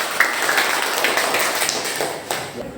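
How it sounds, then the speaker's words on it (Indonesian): Classroom applause from students, a brief burst of scattered clapping that stays fairly loud and dense throughout before thinning slightly at the end. "tepuk tangan."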